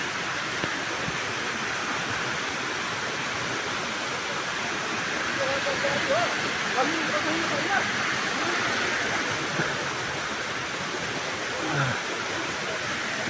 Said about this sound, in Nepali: यस्तो झरना, यति राम्रो झरना।